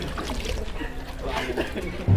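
Water splashes and trickles as it is poured over a body during an Islamic ritual washing of the dead, soft pouring under people talking nearby.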